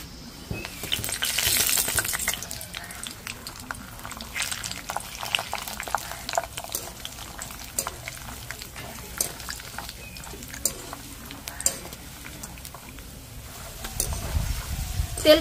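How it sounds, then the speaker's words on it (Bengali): Raw peanuts fry in oil in a large strainer, giving a continuous bubbling sizzle with scattered crackles and occasional stirring scrapes, loudest near the start and end. "আমি বাদামগুলো একেবারে সরাসরি তেলের মধ্যেই দিয়ে দিয়েছি আর খুব ভালো করে ভেজেও নিয়েছি"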